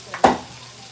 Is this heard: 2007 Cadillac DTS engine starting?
no